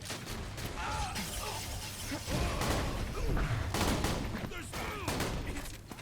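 Rapid gunfire in the video game Borderlands 2, dense bursts of shots and mechanical clicks layered over game music and effects, loud and continuous across several seconds.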